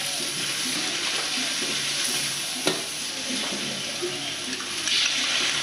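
Fresh vegetables and sauces stir-fried in a pan for Thai chicken with cashew nuts, a steady loud sizzle with scraping stirs and a brief clank, continuous throughout.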